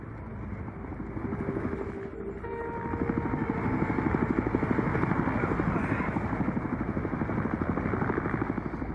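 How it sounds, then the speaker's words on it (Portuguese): Helicopter hovering nearby in the shooter game Battlefield Hardline, a steady loud rotor thrum with rapid blade chop that swells and grows closer partway through, with a voice talking briefly over it. "O helicóptero ia ficar atrás."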